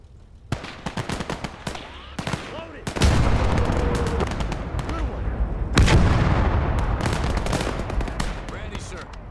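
Battle sounds from the WWII strategy game Gates of Hell: Liberation: sharp rifle and machine-gun shots crack in rapid irregular bursts, broken by two heavy, rolling artillery booms that leave a dense roar of combat behind them.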